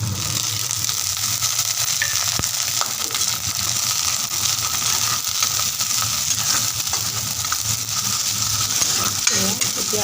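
Onions with ginger-garlic paste fry in a pan for a raw banana kofta curry, giving off a steady, even sizzle with no voices.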